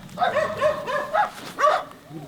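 Puppies at a countryside home let out a few high yips and barks in quick succession, close and fairly loud.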